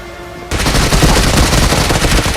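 Automatic gunfire in the mobile battle-royale game PUBG Mobile during a one-on-one fight bursts in abruptly after a brief quiet lead-in, then rattles on as a dense, loud, continuous stream of rapid shots with no talk.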